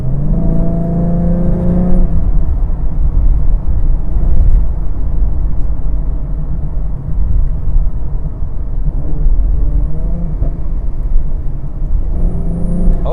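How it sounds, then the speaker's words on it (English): Tuned 2014 Ford Mustang V6 drives through corners, its engine and exhaust droning steadily and loudly with a few revs rising and falling; distinct exhaust pops are not clearly separable. "Oh, the exhaust pops a little bit."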